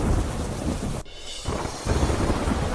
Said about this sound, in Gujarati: ગીર સોમનાથના વેરાવળમાં ભારે વરસાદ